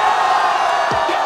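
A loud crowd at a rap battle event cheers and shouts in a continuous roar, with whoops rising above the noise near the end.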